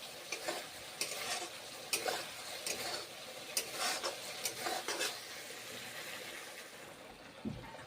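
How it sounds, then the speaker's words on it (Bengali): Spices sautéing in a pan for okra curry, a continuous sizzle broken by repeated scraping stirs at a fairly regular pace, then a quieter stretch with a final low knock. "মশলাটা এখন আমি কষে নিচ্ছি"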